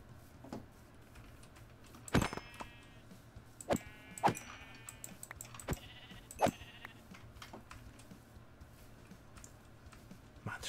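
Sheep bleating in Minecraft 1.19.3 hardcore survival, several short sharp bleats spread across the stretch, moderately loud over a low background hum with faint clicking in between.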